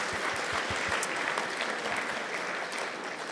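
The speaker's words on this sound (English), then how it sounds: "Let's give them a big round of applause." A seated audience at a British Bangladeshi community awards programme breaks into sustained, fairly loud clapping that holds steady before tapering slightly, with no one speaking over it.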